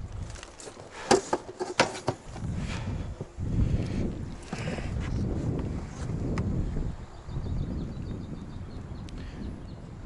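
Gusty wind blows outdoors while spinning fishing from a boat on open water, buffeting the microphone in uneven rushes with a few small knocks and splashes, and no talking.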